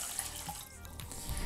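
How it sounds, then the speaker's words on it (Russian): Water is poured from a mug into a small bucket, a steady splashing trickle close by that runs continuously with slight surges in flow. "берем ведерко, а в него выливаем стакан воды"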